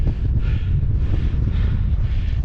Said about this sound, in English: it's a lot more windy up here